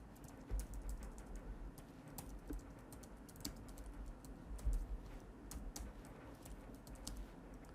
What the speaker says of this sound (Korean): 델리트 키 눌러서 지워주시면 되고 새롭게 입력하시게 되면은